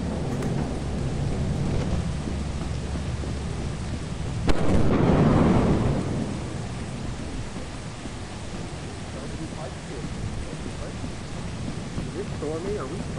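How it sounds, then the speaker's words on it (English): Thunderstorm rain in the video game Lethal Company: a steady rain wash with a sharp crack and rolling rumble of thunder midway, while players talk over it. "Oh, why is it raining?"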